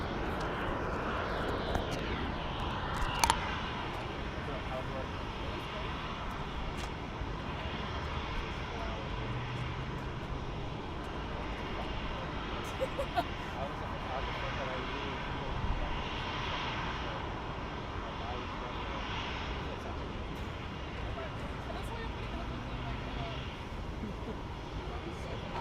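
A McDonnell Douglas MD-11 airliner taxiing at Phoenix Sky Harbor International Airport, its engines a low, steady distant whine and rumble sustained throughout, with faint outdoor background and occasional light clicks.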